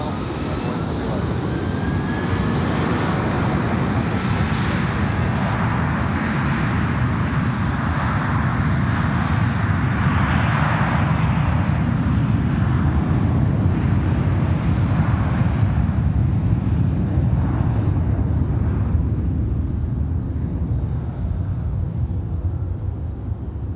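A Boeing 737 lands on runway 10 left at Fort Lauderdale airport, its engine roar loud and steady for the whole stretch, with wind buffeting the microphone in a crosswind.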